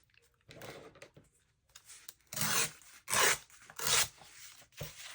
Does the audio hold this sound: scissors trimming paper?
yes